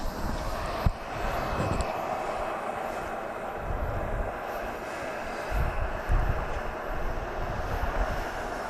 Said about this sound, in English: We got a parade of aeroplanes